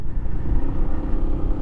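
Honda ADV 150 scooter cruising slowly at about 17 mph on a path: a steady, close, low engine drone with rumbling wind buffeting, loud and continuous, no talking.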